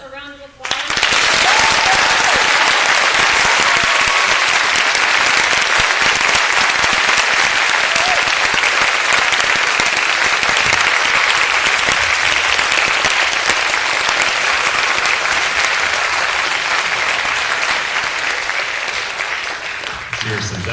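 An audience gives long, steady, loud applause at the end of an author talk by Charles Yu, dense clapping that continues for about twenty seconds before easing slightly.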